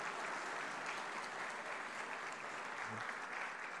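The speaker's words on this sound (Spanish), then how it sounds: "vamos a repetir el aplauso para Dom" Steady audience applause at an agricultural conference session, quiet and somewhat distant, an even wash of many hands clapping without a break and with no speech on top.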